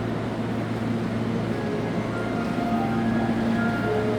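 A private limited express train bound for Kyoto from Osaka is heard from inside or on the platform as a steady low rumble, with faint tonal squeals and hum layered over constant background noise.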